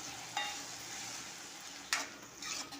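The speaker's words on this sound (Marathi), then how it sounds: "आता परतवून घ्यायचं आहे" Cluster beans and potatoes stir-fried with turmeric and red chili powder in a pan, a soft continuous sizzle broken by a couple of sharp spatula scrapes against the metal, close and fairly quiet.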